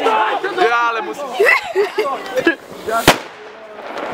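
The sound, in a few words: firecracker exploding on New Year's Eve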